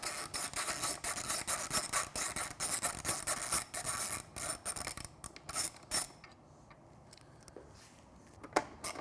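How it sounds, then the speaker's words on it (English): A T40 bit backs screws out of the headlight sides on a Triumph Street Twin motorcycle, giving steady close rasping and ratcheting that thins out into quiet with a few small clicks. "Next, we want to remove these screws from the sides of the headlight using our T40"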